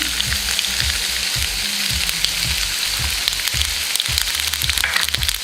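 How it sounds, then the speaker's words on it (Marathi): Mustard seeds crackle and sizzle in hot oil for an okra stir-fry, a steady dense hiss punctuated by repeated sharp low pops roughly every half second, close and fairly loud with no voices. "आपलं या तेल गरम झालं आहे त्यात आपण थोडीशी मोहरी टाकून"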